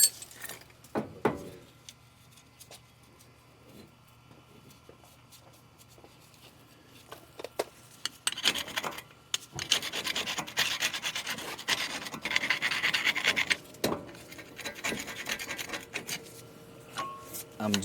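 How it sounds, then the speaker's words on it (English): A tool scrapes and taps rust spots off a bearing seat on a Ford Ranger, first in sparse, faint scratches and clicks, then in denser, louder rasping strokes close by. "I'm just tapping off these little rust spots, because these little spots over here can prevent the bearing from sitting well."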